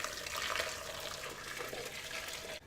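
Water pours steadily from a container into a pot of jars on a stove for sterilising, a soft, continuous splashing trickle heard close but faintly, ending abruptly.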